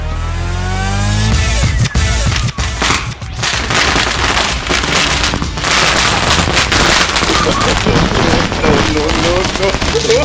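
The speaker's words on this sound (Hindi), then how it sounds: "इस बार ये पटाखा चलाएंगे उसके बाहर" A Diwali firecracker bursts with a rising whistle and a rapid series of sharp cracks and pops, loud and close, with voices talking over the crackling.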